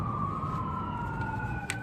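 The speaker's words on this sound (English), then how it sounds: "if you hit the siren like this, it's because we're on the main road." A police siren on a main road wails steadily as one long, slowly falling tone over a dense, rumbling traffic background, with no voices.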